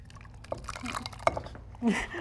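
Liquid poured from a pot while cooking, a soft, brief splashing trickle close by, with faint voices in the background.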